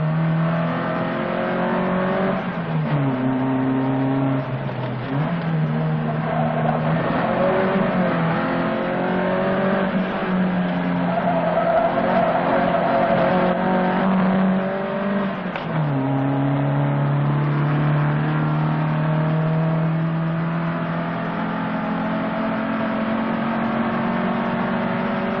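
Jean-Luc Terrier's blue Alpine A310 rally car on an icy stretch of the 1975 Monte-Carlo Rally, its engine loud and close, revving through repeated gear changes and rising pitch sweeps for a long sustained run.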